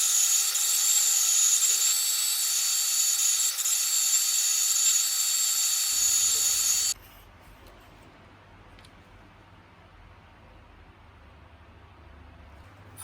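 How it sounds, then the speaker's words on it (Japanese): High, whining hiss of a milling machine boring a hole with an end mill into a knife handle, loud and steady for several seconds before cutting off abruptly, leaving quiet low background noise. "一気に掘るとエンドミルが折れてしまうので、慎重に少しずつ穴を開けていきます。"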